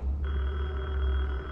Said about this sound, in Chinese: 这时候有人打电话进来